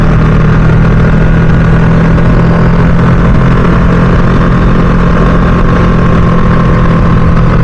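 A Ducati Streetfighter V2 motorcycle engine drones loudly and steadily while riding, a constant close roar with a strong low hum and no rise or fall over the whole stretch.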